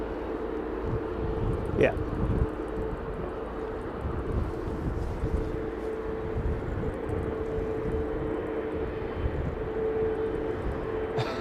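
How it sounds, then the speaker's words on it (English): A Qatar Airways Airbus A330 airliner departs off runway 09, its engine roar a steady broadband rumble in cold wind while someone says a brief word near the start. "Let's just follow this Qatar 330 out"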